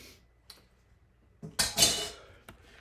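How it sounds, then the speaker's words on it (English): Potatoes being whisked into an egg and onion mixture in a bowl, heard as a few quiet clinks followed by a short, louder burst of scraping, sloshing utensil-against-bowl strokes, then a final faint tap. "add my potatoes to the eggs mixture I made before with the onions, and have this all get whisked together"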